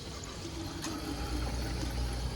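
Cold water runs from a drinking water tap at a university in a steady, moderately close stream of splashing flow.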